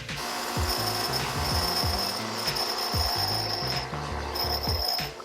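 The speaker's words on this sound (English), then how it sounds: "I can then sand it down a little bit" Sanding a homemade brake cable end, a continuous loud abrasive rasp with a steady rhythmic scraping pulse and a bright whine running throughout.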